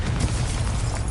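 A fiery Confringo spell blast from Hogwarts Legacy erupts as a dense, roaring burst that fills the whole moment, loud and close with no voices over it.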